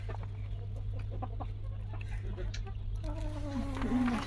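Chickens and roosters cluck softly over a low steady hum, with a rising, drawn-out call toward the end; a faint voice murmurs in the background.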